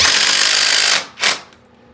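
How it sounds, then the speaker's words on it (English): A hammer drill bores under a rusty old toilet flange, a loud continuous grinding roar for about a second, then a short second burst before it winds down and stops. "you got to have this hammer drill here, guys. Don't try to do it with a regular drill."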